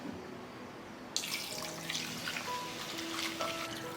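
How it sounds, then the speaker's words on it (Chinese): Beer pours from a can into a pressure cooker holding marinated beef ribs, a bright foamy splashing stream that starts suddenly after a quiet second and continues steadily, fairly soft and close. "摆好了之后来加入啤酒"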